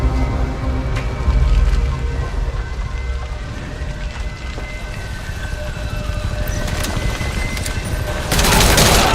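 Gunfire in the video game Metal Gear Solid V: The Phantom Pain, rapid sustained bursts crackling throughout amid mayhem, with a loud burst near the end.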